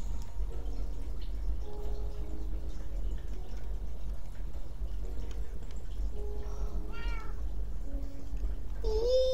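A cat in Minecraft gives a few faint, short meows over a steady low rumble and scattered small clicks and drips, with a clearer rising mew near the end.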